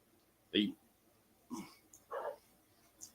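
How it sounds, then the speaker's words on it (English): A few short, sharp barks from dogs playing outdoors, spaced irregularly, somewhat distant, with brief pauses between them. "I hear the dogs out there playing."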